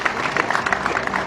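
An audience at a formal state ceremony for the handing over of a battle flag to the head of state claps together, producing a steady, dense patter of applause that is loud and close throughout.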